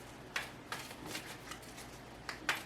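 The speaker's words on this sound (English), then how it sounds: "I'm just going to shuffle until we want one card" Oracle cards being shuffled by hand, soft riffling bursts repeating at irregular intervals, quiet and close with no speech.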